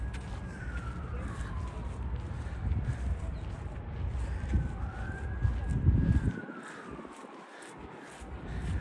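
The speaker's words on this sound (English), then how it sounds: "Not too many sirens as normal." Police sirens wail through New York City streets near Central Park, rising and falling sweeps at moderate distance over wind and city rumble, with a voice talking intermittently.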